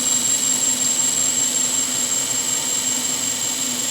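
A lapidary grinding wheel running true while cutting a round cabochon gives a steady, even high whine with a constant motor hum, close and continuous.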